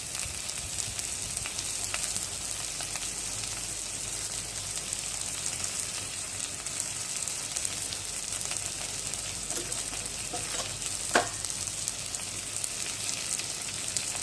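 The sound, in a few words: spices frying in oil for prawn and pointed gourd curry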